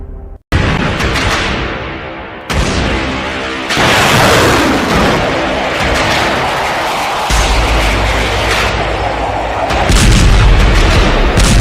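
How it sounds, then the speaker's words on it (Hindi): Sustained artillery barrage from massed cannon in the Russia-Ukraine war, heavy booms and rumbling blasts overlapping continuously, loud and dense with no pauses. "एक 1000 तोपों से हमला, भाग गए यूक्रेनी सैनिक।"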